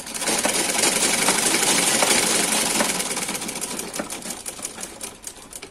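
A sewing machine double-stitches the start of a trouser seam: a fast, steady mechanical rattle of needle strokes, close and fairly loud, running continuously before easing off and slowing toward the end.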